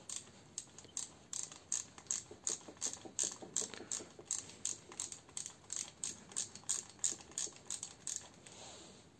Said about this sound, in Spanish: el dado de medida 8 milímetros y la matraca de un cuarto y aflojan y quitan estos cuatro tornillos